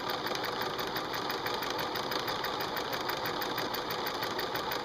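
A sewing machine runs steadily through a quilt block for the full stretch, a continuous even mechanical whir with a fast stitching pulse, fairly close and alone.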